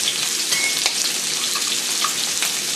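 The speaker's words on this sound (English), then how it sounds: "So let the pork belly grill for about 1 to 2 minutes on each side." Pork belly fries in an oiled pan over medium heat, a dense, even sizzle that hisses loudly throughout with a few faint pops and crackles.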